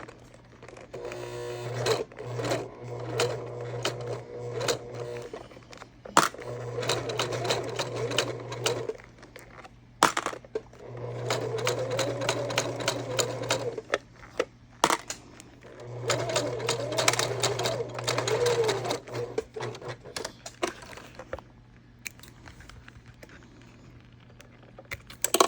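A sewing machine stitches across the bottom of a fabric bag in several long whirring runs of rapid needle clatter, close and steady, broken by short pauses and clicks.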